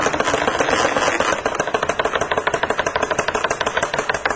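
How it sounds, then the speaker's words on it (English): A Wilden air-operated pump runs loudly, its ball valves closing in fast, regular pulses that send sharp pressure shocks through the piping, the beat quickening after a noisy start. "as I turn the pump on, you'll be able to see the pressure wave going back down the piping system, and the pipe will be shaking"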